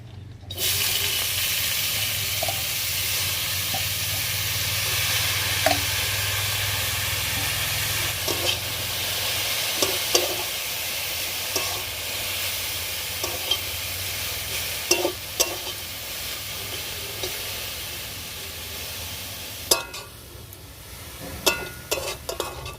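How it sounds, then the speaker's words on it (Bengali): Cabbage frying in oil left over from frying meat, a steady broadband sizzle running throughout with occasional clinks of a spatula against the pan, and no voices. "এবার কপিগুলোকে মাংস ভাজা তেলে ভেজে নেব"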